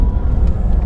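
A luxury car accelerating hard with the driver flooring it, a brief loud low rumbling engine roar heard from inside, with no talking.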